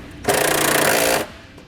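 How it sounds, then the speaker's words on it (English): A 10mm socket on a power tool spins a nut back onto a ground wire under the dashboard of a 2017 towed vehicle: one loud, steady, rattling buzz of about a second that stops abruptly. "With the nut removed, we can slide our ground into place and reattach the nut."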